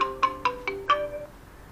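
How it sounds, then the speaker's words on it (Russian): A phone ringtone plays five quick bright electronic notes in a rising pattern, then fades, clear and alone with no talking. "телефон звонит"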